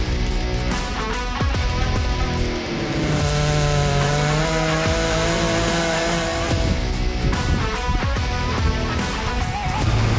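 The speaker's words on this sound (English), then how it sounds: "we had to buck up these logs from yesterday" Chainsaw bucking cottonwood logs in the woods, the engine running loud and close throughout with revving surges and a steady cutting drone, no talk.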